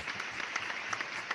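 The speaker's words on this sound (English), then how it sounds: "Can we get a round of applause for Eugenio, please?" A live audience applauds after a tabletop role-playing game session, with steady, moderately quiet clapping spread evenly across a short stretch.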